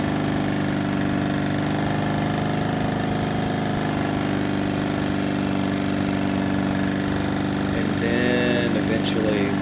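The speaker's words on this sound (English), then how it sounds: "you can hear how loud the generator is through my iPhone" A Generac iX2000 inverter generator runs at half choke outdoors on grass, its engine a loud, steady close-up drone with a faint rattle, as a person talks over it.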